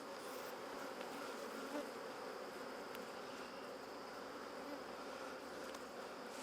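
Honey bees swarm around an open beehive frame during beekeeping work, a dense, steady buzzing hum that stays close and continuous with no voices.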